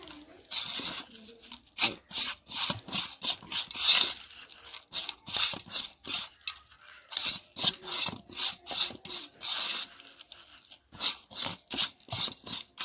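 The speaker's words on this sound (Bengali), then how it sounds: "তো এইগুলো এবারে আমি এইভাবে এটা গুঁড়ো করে নেব" Dried potato pieces crushed into powder by hand, giving repeated dry rasping, rubbing crunches in quick irregular bursts with short pauses, close and fairly loud with no talk.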